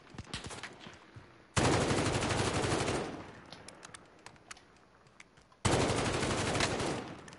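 Automatic gunfire in Call of Duty: Warzone comes as two long, loud, rapid bursts separated by quieter stretches of scattered shots and movement.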